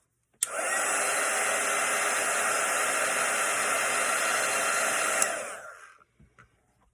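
A hair dryer blows on wet watercolour paint of a Christmas poinsettia, switching on abruptly and running as a steady, loud, close airy roar for about five seconds before cutting off and winding down into quiet.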